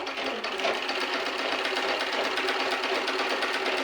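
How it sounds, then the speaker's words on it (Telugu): A sewing machine stitches a girl's frock at home, running in a steady, rapid mechanical whir throughout, close and moderately quiet, with no talking. "ఇప్పుడైతే ఇంకా కుట్టడం స్టార్ట్ చేస్తున్నా ఫ్రాక్"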